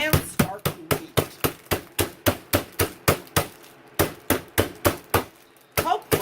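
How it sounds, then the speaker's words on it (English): A meat hammer pounding steak under plastic wrap, about twenty sharp, evenly spaced thuds in a steady rhythm with one brief pause, close and distinct. "Get the hammer and start to beat."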